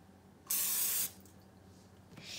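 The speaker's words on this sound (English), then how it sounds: "what you should do is that you should grease up your little measuring cup so that way it doesn't stick" Cooking spray squirted into a small measuring cup to grease it while making pecan pie: one loud hissing burst of about half a second up close, then a quiet room with a faint second hiss near the end.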